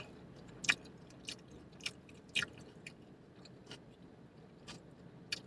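Close, quiet chewing and biting of food during a mukbang-style meal, with irregular soft crunchy and wet mouth sounds repeating every second or so, no talking.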